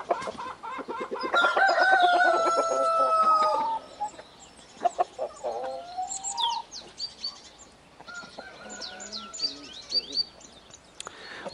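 Roosters crow and cluck among other fowl, strong overlapping calls in the first few seconds, then scattered clucks and shorter crows, with some chatter throughout.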